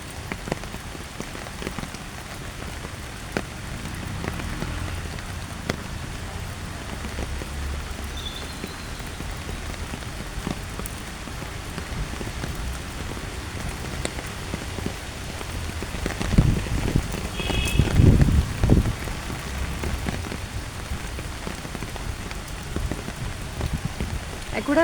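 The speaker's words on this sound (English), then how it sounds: "I'm feeling so nice sitting in the rain" Steady rain falls on lush greenery around someone sheltering under an umbrella on a wet Monday morning, a continuous soft patter with a heavier, closer burst of drops partway through.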